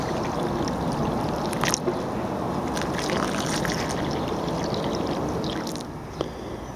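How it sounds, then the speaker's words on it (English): Water pours from a watering can into a planting hole around newly set shallots in a garden bed, a loud, continuous splashing trickle with a few brief clinks, and no voices. "The final thing to do is to give them a watering. Just fill the hole up to the top"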